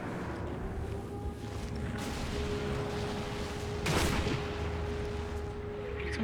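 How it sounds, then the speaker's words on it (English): A single muffled gunshot in the video game Sniper Elite V2 cracks out partway through over a constant, steady ambient hum. "Did someone shoot at me?"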